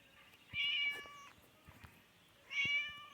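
Two clear cat meows in a video game, separated by a pause of about two seconds, with a faint click or two between them.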